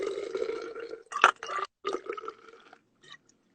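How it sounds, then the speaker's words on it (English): Malbec wine poured into a graduated cylinder, a few soft gurgling, glugging spurts of liquid close by, broken by brief pauses, fairly quiet. "we're going to pour in 35 mLs of Malbec"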